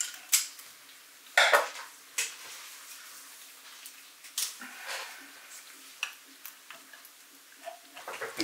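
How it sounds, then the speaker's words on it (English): Metallic ticking and clinking as a nut is tightened by hand on an Arduino-driven leadscrew while a stepper motor is overpowered, with a sharp scrape near the start and small irregular clicks and taps, close and fairly quiet. "I can basically tighten this nut while overpowering the stepper."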